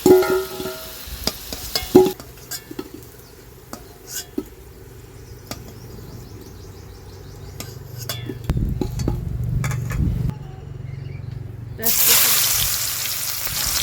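Steady sizzling of potatoes frying in oil, crackling under brief clattering and stirring sounds, with a louder hiss near the end.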